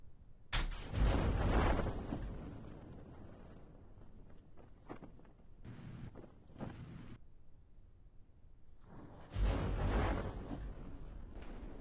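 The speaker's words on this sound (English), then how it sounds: "Oh, it's a thunderstorm. Oh, there's thunderstorms in this?" Thunder from a thunderstorm in Kerbal Space Program, heard as deep rolling rumbles: one strong burst near the start, quieter crackles in the middle, and another heavy roll toward the end, all under a steady windy backdrop.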